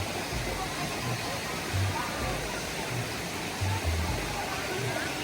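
A gentle, low waterfall near Sihanoukville, Cambodia, a calm bathing spot rather than a big drop, gives a steady broadband rush of falling water with soft low thuds and sloshes throughout.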